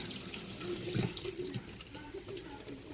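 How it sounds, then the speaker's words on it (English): Canned beans are rinsed under a running kitchen tap, with a steady close stream of water and a few splashy surges as the beans are swirled. "So I'm going to rinse them out, get rid of any junk that's on them."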